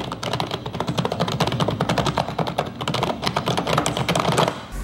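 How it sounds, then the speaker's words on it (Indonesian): Fast, continuous typing on a K612 Soldier RGB computer keyboard, with dense clacking keystrokes recorded close up and no voices. "Suara dari keyboard K612 Soldier ini"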